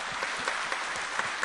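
A church congregation applauds to welcome newcomers, a brief steady wash of many hands clapping together, moderately loud and evenly sustained.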